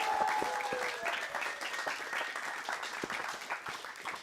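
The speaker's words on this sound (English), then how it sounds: "Let's give one more round of applause for both of our speakers tonight." An evening public science talk audience applauds its speakers, dense continuous clapping from a sizable crowd that stays fairly steady throughout with no voices over it.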